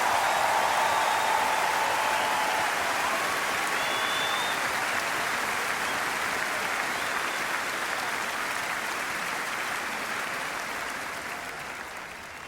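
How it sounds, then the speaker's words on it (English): A large concert audience applauds a young singer as she comes on stage, a broad, sustained wash of clapping with faint whistles and cheers, gradually fading toward the end. "Give her an enormous applause"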